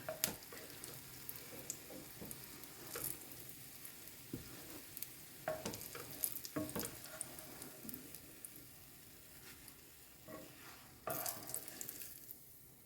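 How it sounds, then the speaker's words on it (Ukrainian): Sizzling oil frying potato pancakes in a pan, a steady crackle with scattered louder pops and spits, close by and continuous. "І далі смажу."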